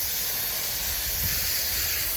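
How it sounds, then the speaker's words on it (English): Garden hose spraying water onto a stovetop vent filter to rinse out soap suds, a steady broad hiss of spray running continuously and fairly close with no talk. "I'm just going to spray it off with a garden hose, making sure all the, suds come out."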